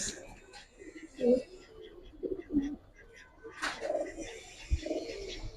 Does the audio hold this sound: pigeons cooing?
yes